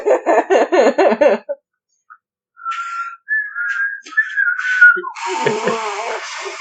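Laughter up front, then a few wavering whistled notes, breathy and broken, ending in a shaky whistle mixed with giggling.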